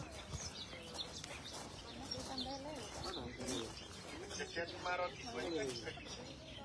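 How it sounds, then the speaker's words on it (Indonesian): Birds call and pigeons coo near a mosaic site in Jerusalem, a steady mix of soft cooing and chirps layered over faint background murmur, with no clear talk. "Suara burung."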